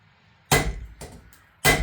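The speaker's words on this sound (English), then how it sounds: "you're gonna get a little bit further out with that hammer glove" A blacksmith hammering a square taper on hot metal, with three sharp ringing blows spaced about a second apart, close and loud against a quiet background.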